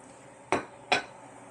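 Two sharp metallic clacks, about half a second apart, as the lid of a Ninja Foodi grill is closed, fairly close and crisp with brief ringing decay and no talk.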